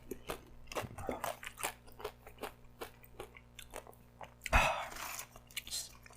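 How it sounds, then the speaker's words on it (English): A tortilla chip loaded with dip cracks sharply as it is bitten, one loud crisp snap near the mic, followed by close, wet crunching chews. "chip cracking."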